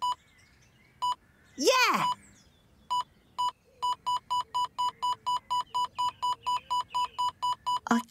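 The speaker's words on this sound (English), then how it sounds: "Oh, I brought me metal detector, look. It detects anything made of metal" A toy metal detector in a children's cartoon gives a few spaced electronic beeps, then a fast, regular run of steady beeps; a short voice is heard early on.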